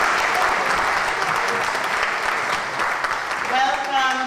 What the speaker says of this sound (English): So could you have a round of applause?